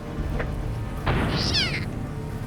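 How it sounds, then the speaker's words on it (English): Hostile cats in the video game Underrail meow and yowl, a short call followed by a louder drawn-out caterwaul over steady game background noise. "get rid of these horrible cats"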